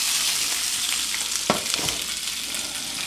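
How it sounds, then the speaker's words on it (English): Shrimp and vegetables searing in a hot pan give a steady, bright sizzle throughout, close up, with a brief stir or clatter midway and no talking. "You can hear my vegetables searing over here, sizzling in the pan."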